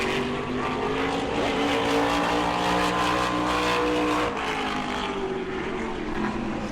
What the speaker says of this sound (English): Here comes Eric Goodale in the 58